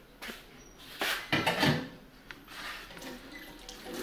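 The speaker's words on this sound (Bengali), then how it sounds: "পানি তো আবার আসতেছ" Water running from a household tap, heard faintly as uneven splashing spurts and trickles over a few seconds, without speech.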